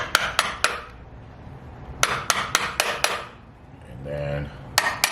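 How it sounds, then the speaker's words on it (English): A small miniature hammer taps a flathead screwdriver during a Harley Road Glide Special motorcycle teardown: quick bursts of three or four bright metallic clinks, then another cluster of five, with a short scraping in between, close and crisp. "So we found our flathead. So we're gonna grab our little miniature hammer that we had here."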